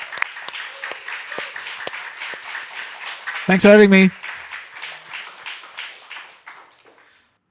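A small studio audience claps for a guest at the end of a music podcast episode, brisk applause of a few hands that tapers away, with a brief spoken thanks partway through.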